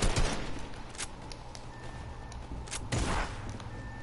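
An SMG fires in a video game in rapid bursts, sharp crackling shots clustered near the start, around one second, and again near three seconds, with quieter game noise between.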